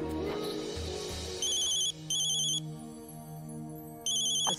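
A telephone rings in repeated electronic trills, two close bursts then another, over a low background of music or room tone.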